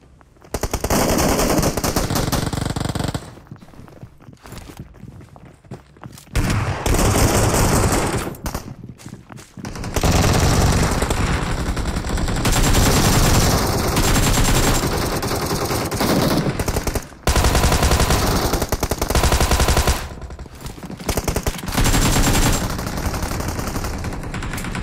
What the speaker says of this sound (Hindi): तभी ऊपर से और बंदूक की आवाज आती है, मतलब एक और टीम आ चुकी है